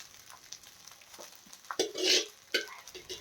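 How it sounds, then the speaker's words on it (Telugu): Cooked rice dropped into a sizzling tempering in a pan for jeera rice, a soft hiss and sizzle with light scraping and stirring, a brighter surge of frying midway, quiet and close. "ఈ పోపులోకి మనం ముందుగా ఉడికించి పెట్టుకున్న 1 గ్లాస్ రైస్‌ని అయితే నేను ఇందులో వేస్తున్నాను"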